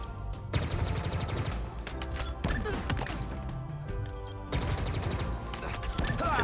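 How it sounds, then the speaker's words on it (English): A Pinpoint Needler fires in the shooter Halo Infinite, rapid bursts of sharp crystalline shots with ringing impacts, several volleys separated by short gaps, loud and close with layered game effects. "Now the Pinpoint Needler, another one of my favorites. It takes 8 shots to kill, as you can see here."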